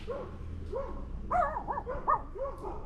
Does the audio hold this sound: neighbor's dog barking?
yes